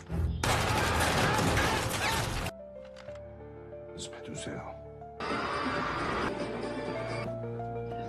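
Gunfire from shooting practice in Squid Game season 2, two long bursts of loud rapid shots separated by a quieter gap, with a voice talking over the scene.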